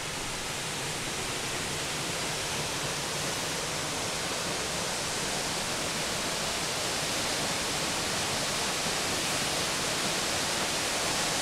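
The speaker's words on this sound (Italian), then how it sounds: "La cascata Peseg è alta 30 metri ed è alimentata dal torrente Valmolina." Steady, dense roar of the 30-metre Peseg waterfall, fed by the Valmolina stream near Brinzio, heard continuously and fairly close with no voices.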